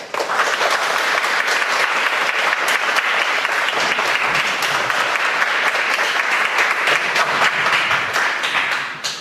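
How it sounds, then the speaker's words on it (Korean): A church congregation applauds to welcome a missionary to the front, a dense, loud, continuous wash of many hands clapping that holds evenly throughout and tapers slightly at the very end. "여러분 큰 박수로 맞이해 주시면 감사합니다."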